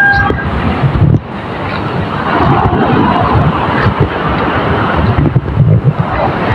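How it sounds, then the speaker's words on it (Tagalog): Strong surf crashes and rolls continuously nearby, with gusty wind buffeting the microphone throughout; no one speaks. "At ito po ay malakas pa rin ang alon."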